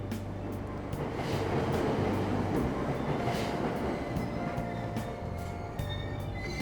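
A subway train in Persona 5 Royal rumbles steadily along the rails, with a low continuous drone, periodic clicks of wheels over track joints and faint high squeals.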